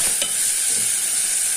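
Onion and green chilli frying in a pan while being stirred, a loud, continuous hissing sizzle with a faint scrape or two early on, close and steady, no talking.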